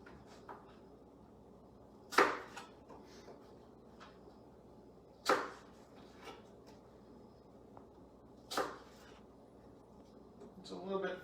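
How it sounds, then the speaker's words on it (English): An apple being sliced into thinner pieces with a knife, three distinct sharp cuts spaced a few seconds apart against a quiet kitchen background. "Come back in and make those slices again."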